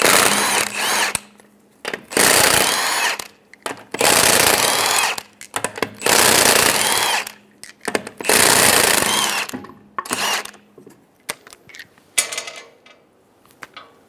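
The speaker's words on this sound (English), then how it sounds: "Using a 19mm socket, we're going to remove the lug nuts" A power tool with a 19mm socket spins off the lug nuts on a 2003-2008 Honda Pilot's rear wheel, giving loud, close bursts of rattling impact hammering, about five long runs separated by short pauses.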